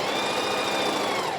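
A sewing machine stitches a t-shirt in one fast, steady mechanical whir. It runs close and loud with no pause.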